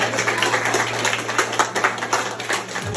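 Clapping rises from guests at a graduation ball in a village hall, a crowded, steady patter of hands layered over a constant low hum.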